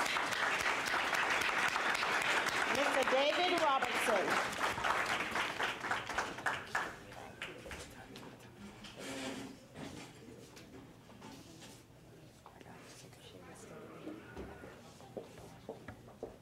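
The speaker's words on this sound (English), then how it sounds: "Please put your hands together and give him a loud round of applause." A crowd applauds the keynote speaker, Mr. David Robertson, at a community event on HIV/AIDS in the Caribbean. The clapping is loud and dense at first, with a voice briefly over it, then thins and fades over about sixteen seconds.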